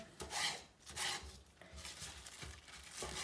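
Knife trimming asparagus stalks, close and quiet: a handful of short scraping, rasping cuts come in uneven bursts with brief pauses between them.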